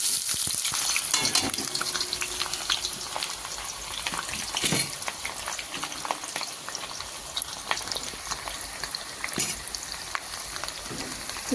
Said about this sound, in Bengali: এবারে কেটে রাখা পেঁয়াজগুলো ছেড়ে দেবো তেলের মধ্যে